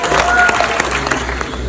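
Guests at a wedding reception at Bella Rosa Gardens clap warmly, a steady burst of applause with faint voices underneath.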